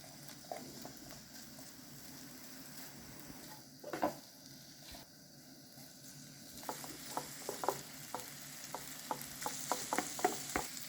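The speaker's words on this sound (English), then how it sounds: "do not over fry the pastrami" Italian pastrami fries quietly in a pan for chili beans, a soft low sizzle broken by scattered spoon scrapes and taps that grow more frequent toward the end, with no voices.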